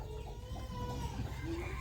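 A chicken clucks faintly in a rural Lao village setting, with soft calls rising over a steady low background hum.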